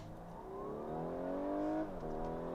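A 2019 Audi A5 Cabriolet Premium Plus accelerates hard on a rainy road, its engine note climbing steadily through the revs, dropping briefly at a gear change, then rising again, heard from inside the car.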